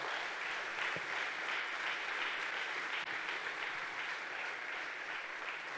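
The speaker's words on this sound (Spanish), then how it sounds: "den un fuerte aplauso a Jesús." Church congregation at an annual retreat applauding, a sustained, even wash of many hands clapping heard from a distance and fairly faint, continuing steadily for several seconds without voices.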